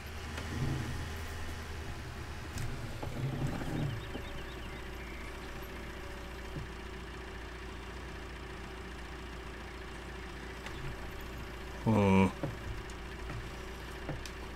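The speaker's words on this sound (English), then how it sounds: "Two completely different tractors there." Ford 7810 and John Deere 7810 tractors idling, a steady low engine rumble running throughout, with a brief louder knock or clunk near the end; no talk over it.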